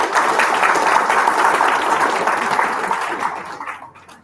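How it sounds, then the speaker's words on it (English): A room full of people applauding after a presenter's talk, loud, dense clapping held steady for several seconds before it thins and fades out. "Please give her a big round of applause."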